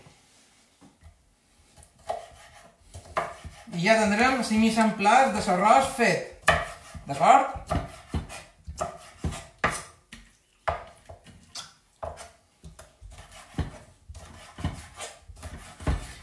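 Cuttlefish being chopped into strips or small squares with a knife on a board: sharp irregular knocks, close and clear, with a brief stretch of someone speaking in the middle.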